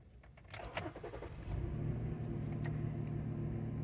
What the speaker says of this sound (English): we're going to try to crank it